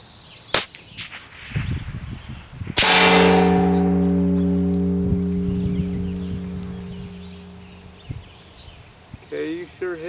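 A Savage Model 110 rifle in .338 Lapua fires once at a long-range target 1450 yards away, a sharp loud blast followed by a long ringing decay, with a faint earlier crack and voices talking near the end.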